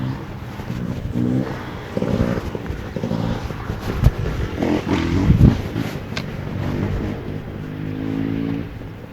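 A 560bhp, 700nm 9-5 car accelerates hard through several gears, its engine note climbing in repeated rising sweeps with wind noise around, loud and close from inside the cabin.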